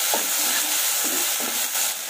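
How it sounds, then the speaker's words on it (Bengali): Bengali spice paste with cumin, ginger and dried rice flour being fried and stirred in a pan for an aloo potol malai curry, a steady close sizzle with a few soft stirring scrapes. "এখন মশলাটাকে আমি একটু কষিয়ে নেব।"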